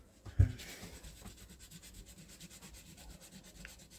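A scratch-off lottery ticket being scratched by hand, with a soft rubbing scrape close up after a brief bump, continuing quietly and steadily with no talking.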